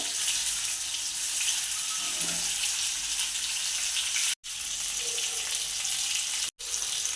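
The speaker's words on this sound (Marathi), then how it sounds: "ही साईड भाजण्यासाठी आपण असे मासे तेलामध्ये उभे करूया" Fish pieces stand upright in a little oil in a pan to crisp their sides, giving a soft, steady sizzle and hiss that cuts out abruptly twice, close and without talking.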